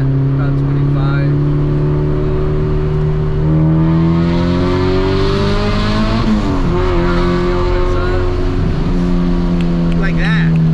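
A 1995 Honda Civic EG fitted with Spoon engine parts pulls hard under acceleration, the loud engine note climbing and shifting pitch continuously up close, with a voice briefly heard under it.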